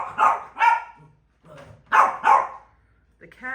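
A dog barks in short, close bursts, two quick barks, a pause, then two more and a brief yip, while a cat perches on its crate nearby.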